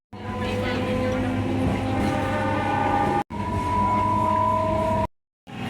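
A local train pulling into Santragachi station, with a loud sustained rumble and long horn-like tonal drone that breaks off briefly twice, close and dominant.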